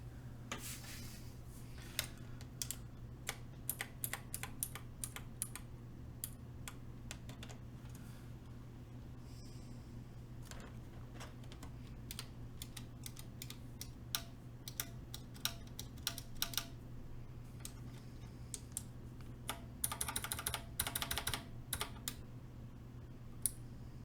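Close, quiet typing on prototype mechanical keyboard switches: irregular bursts of sharp clicks and clacks over a low steady hum, with a denser flurry of keystrokes near the end.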